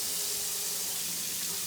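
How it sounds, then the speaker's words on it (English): Tap water runs steadily into a sink during bread making, a continuous broadband hiss heard alone, close and moderately loud. "Sorry, you probably hear the water running."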